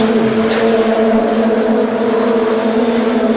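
Touring race cars in a WTCC round at Curitiba, 2008, roar continuously at close range with steady engine drone and rising harmonic tones as they accelerate through the first lap.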